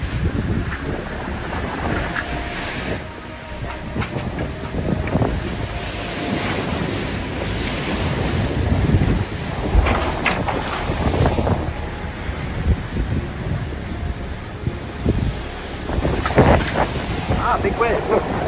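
Sailboat pounding through big waves in strong wind, with constant wind buffeting on the microphone, water rushing and splashing, and bursts of louder impacts; a voice speaks intermittently over the roar.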